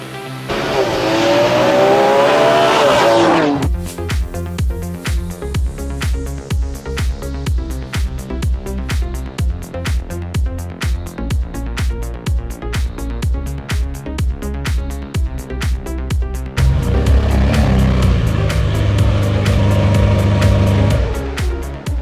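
A Ferrari 599 GTB with its Enzo-derived V12 drives on the open road, its loud, steady engine note carrying close and continuous for most of the stretch and swelling louder near the end.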